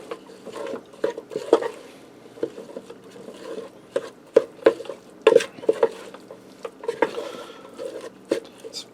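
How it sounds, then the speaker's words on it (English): Ground beef with chili seasoning is stirred in a Ninja Speedi, giving irregular soft scrapes and clicks of a spoon against the pot over a quiet background, with bursts of sharper taps scattered throughout. "I'm going to give that a stir just to get the spices stirring quick."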